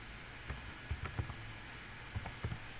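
Light typing on a computer keyboard, a handful of soft scattered key clicks in short clusters against a quiet room background, with no voices.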